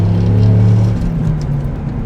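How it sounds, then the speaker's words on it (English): The V10 engine of a Dodge Ram SRT-10 pickup rumbles loudly and close, a deep steady drone that shifts pitch slightly as it runs, with no talk over it. "there's nothing quite like the sound of a V10"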